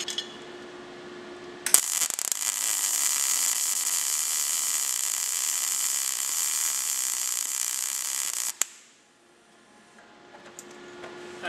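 MIG welding on a piece of metal produces a steady, loud, hissing crackle lasting about seven seconds, starting abruptly and cutting off sharply, with a quieter hum before and after.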